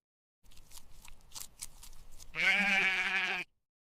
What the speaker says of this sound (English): The sheep continue to graze peacefully.